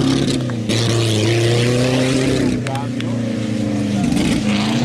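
A car engine hums low and laboured under steady load climbing uphill at a hill-climb event in Valpantena, Italy, rising slightly in pitch while a person talks in Italian over it close by.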